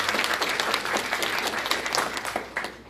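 Guests applaud at a mass civil wedding ceremony, dense and loud clapping with sharp individual claps standing out, sustained for the whole stretch with no voices on top.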